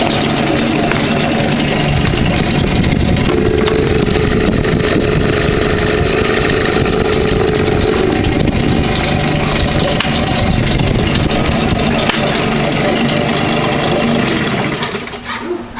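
A 1992 Yamaha 3hp two-stroke outboard motor idles steadily and close, a continuous buzzing drone running evenly throughout with no talk over it.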